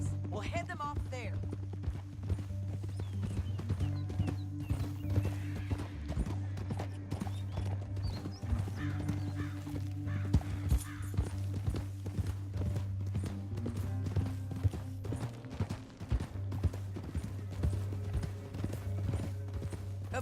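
Horse hooves clip-clop steadily in Red Dead Redemption 2 under a constant low rumble, with occasional whinnies and characters talking over the riding.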